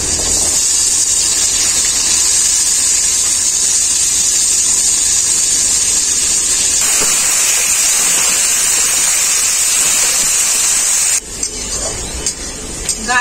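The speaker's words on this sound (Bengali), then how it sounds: "গাজর, মটরশুঁটি, বিনস একসাথে খুব ভালো করে ভেজে নিয়েছি।" Carrots, beans and peas sizzle and hiss steadily in hot mustard oil, a loud continuous frying spray that eases slightly partway through and fades toward the end.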